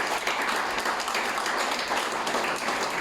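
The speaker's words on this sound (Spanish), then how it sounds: "Si le voy a dar un aplauso, déselo fuerte al Señor." A church congregation gives sustained, dense applause, a continuous wash of many hands clapping that fills the room without a break.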